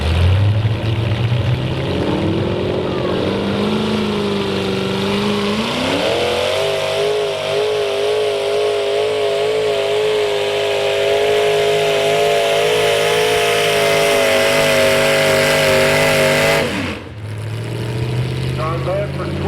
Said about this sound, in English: Not bad for twin engines.